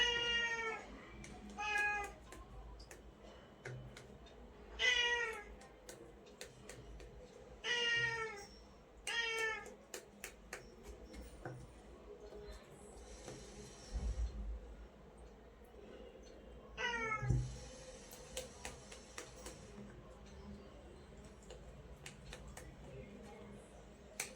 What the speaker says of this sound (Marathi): मांजराचा आवाज येतोय, जरा इग्नोर करा.